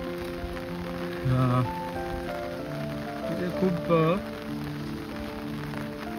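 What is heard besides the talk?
heavy monsoon rain in Konkan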